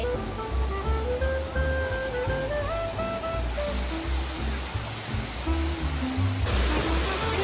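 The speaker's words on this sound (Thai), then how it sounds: "น้ำตกนี่อ่ะไหลแรงเลยล่ะ" Waterfall in Kanchanaburi running strongly with heavy flow after the rainy season, a steady broadband rush of water filling the whole clip, with faint tonal sounds and a little background noise above it.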